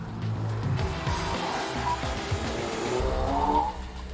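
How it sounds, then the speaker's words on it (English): A Ford Focus RS with a 350-horsepower four-cylinder turbocharged engine roars past at speed, its steady engine noise mixed with faint tire squeal and rougher bursts. "I love those crackles and bangs on the overrun"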